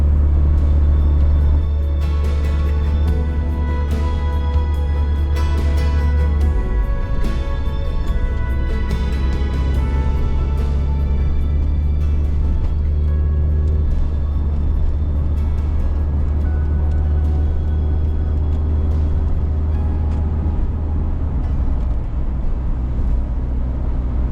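A 1993 Volvo 240 wagon climbing a snowy uphill road, heard from inside as a loud, steady low engine drone and road rumble that carries on unbroken throughout.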